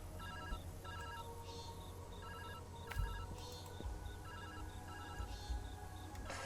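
A telephone rings in the video game Viewfinder, its repeating electronic trills arriving in steady bursts over a constant low ambient hum, with a soft thump partway through.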